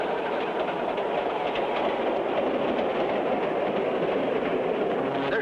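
A jungle train rolling on rails gives a steady, loud rumble with faint clickety-clack, continuous and unchanging, with no voices.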